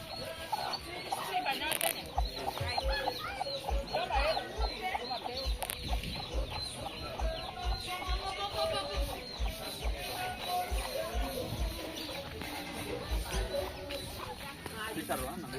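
Hens and small chicks cluck and peep continuously on a farm, close and lively, while people talk over them throughout.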